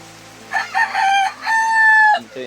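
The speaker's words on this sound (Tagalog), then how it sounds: "Ito yung ibang mga manok ko." A rooster crows loudly and close among other chickens on a rain-soaked, flooded farm in Mindanao, giving two long drawn-out calls with a short cluck after, nobody speaking.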